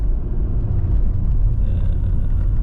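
A taxi drives through Kyiv, heard from inside the cabin as a steady, loud low road and engine rumble that stays even throughout with no voices.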